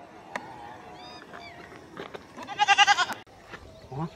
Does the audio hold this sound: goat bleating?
yes